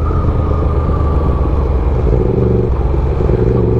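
Motorcycle ridden along a rough track, its engine a loud, continuous close-up rumble with a steady drone throughout and no speech.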